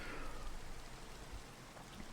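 Steady rain patters in a Minecraft ATM9 modpack game, a faint even wash of drops with a low rumbling undertone.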